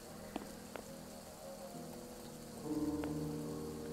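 Steady rain falling in a video game scene, a soft continuous patter at low level, with a few faint tonal sounds and a slight swell in the second half, no talking.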